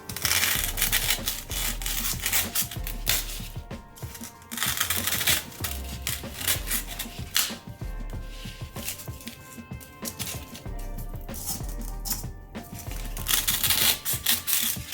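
Cutting material into strips to fit a flower pot, with a rapid crunchy series of close snips and crushing clicks coming in bursts with short pauses.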